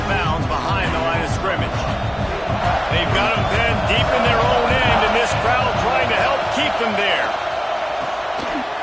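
A packed American football stadium crowd roars steadily as the home defense pins the opponent deep near its own end zone, with a loud continuous wash of noise under a commentator's play-by-play voice.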